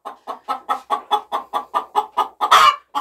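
A hen in a freshly whitewashed henhouse clucks and scolds in a steady series of about a dozen close, loud, rhythmic clucks, ending in a harsher, louder squawk.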